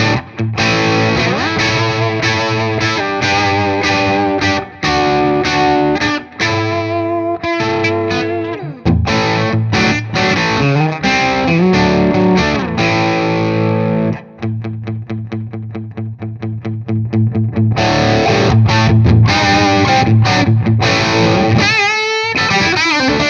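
Electric guitar played through a Metropoulos Super-Plex MK II 50 watt amp set near edge of breakup, ringing chords and sustained notes with mild grit, loud and continuous throughout with no talking.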